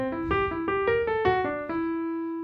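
A jazz eighth-note triplet motif over C altered sounds, built on the sharp 11 and entering on the root, rings out as a string of roughly eight clear, connected pitched notes played alone at moderate volume.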